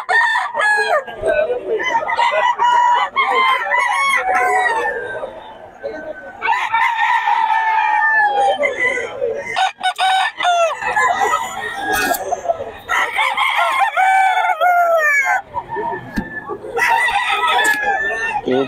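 Roosters at a cockfight venue in Bocaue crow repeatedly and cluck loudly and close, several birds overlapping almost continuously, with voices murmuring faintly underneath.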